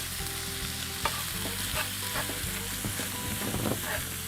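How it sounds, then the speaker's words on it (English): Quick-cooking pre-cooked brown rice sautes in hot oil in a pan for shrimp and brown rice, with a steady close sizzle and frequent scraping, stirring clicks of a utensil against the pan throughout. "Now I'm sauteing this just for a minute."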